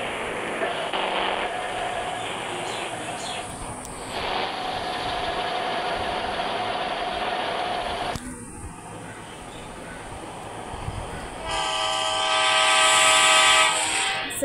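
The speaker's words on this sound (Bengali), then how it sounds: "এখন আমরা ট্রেনে উঠে যাব" Train running in the video game Indian Bike Driving 3D: a loud continuous rumble of rolling wagons with engine drone, then a long horn blast near the end.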